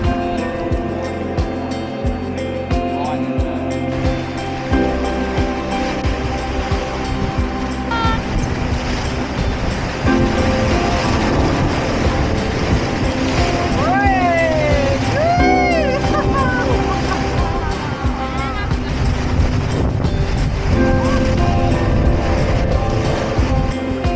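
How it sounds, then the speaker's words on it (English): High-tide breakers pound a boulder bank and wash over it into the Clarence River estuary in New Zealand's South Island, a loud, continuous rushing roar with some higher tonal sounds about two-thirds of the way through. "A high tide had breakers pounding on the boulder bank and flowing over it into the river estuary"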